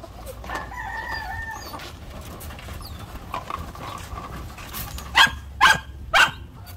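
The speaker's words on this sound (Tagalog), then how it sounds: "So ito mga ka-farmers yung mga manok natin dito na mga kelso at saka asil." Kelso and Asil chickens on a farm, with several sharp crows ringing out near the end alongside dog barks, softer clucking and scattered farmyard noises earlier on.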